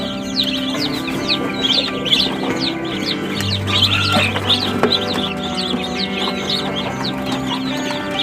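Several chickens cluck and chatter close by, a busy overlapping flock sound with a low steady hum underneath and no talking.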